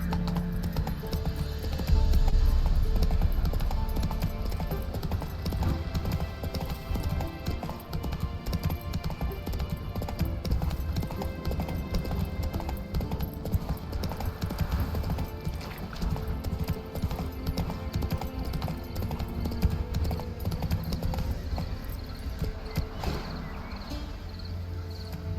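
Roach, the horse in The Witcher 3 video game, gallops with rapid rhythmic hoofbeats over a continuous bed of game music and ambience, with a brief whinny near the start.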